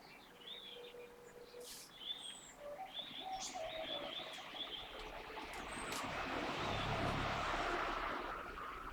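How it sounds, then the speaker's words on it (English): Several birds chirp and sing, with a soft dove cooing among them. A low rushing rumble, like a distant aircraft, swells in the background toward the end. "Beautiful bird song."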